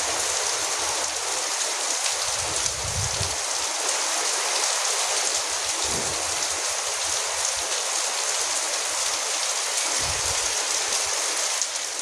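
Steady heavy rain pouring on a village, a dense continuous hiss of drops on surfaces close by, with no voices.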